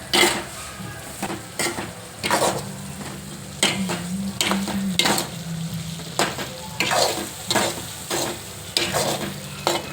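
Whole stuffed okra sizzles and fries in a pan while a utensil scrapes and stirs it in repeated strokes, close up, with no talking.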